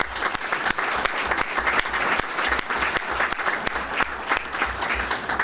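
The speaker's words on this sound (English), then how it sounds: "Let's give them a round of applause." A civic audience claps steadily through a city address, the dense sustained applause filling the room, with sharp individual claps standing out close by and no speech over it.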